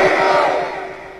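A crowd roars a religious chant in unison, many voices swelling together into a loud, sustained collective shout that slowly fades over about a second.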